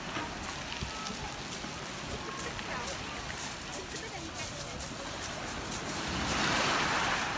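Steady broadband wash of surf rolling onto the seaside shore at the Isle of Wight, continuous and moderately loud, swelling a little toward the end, with no clear voices over it.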